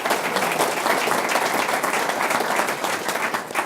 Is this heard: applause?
yes